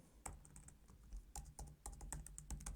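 Someone types PHP code on a computer keyboard, a steady run of close clicking keystrokes in uneven clusters with no talking.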